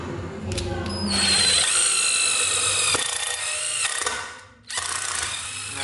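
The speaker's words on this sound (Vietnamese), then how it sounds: "Ok, giờ bắn vít tự khoan nha" A Ryobi 12V cordless screwdriver whines loudly up close, its motor pitch rising and straining as a self-drilling screw drills in, pausing briefly before a second burst of driving.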